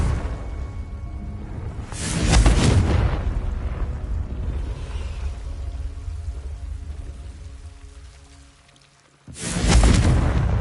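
Confringo fire spell explosions in the Hogwarts Legacy video game: two loud, booming blasts several seconds apart, each a broad roaring burst, with a low rumbling ambience between them that drops nearly silent before the second hit.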